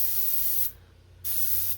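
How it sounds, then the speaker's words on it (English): Duracoat paint hisses from a spray gun onto an AR10 rifle part, two close, steady bursts of airy spray separated by a short pause, with a third starting at the end. "And I just, spraying from about this far away."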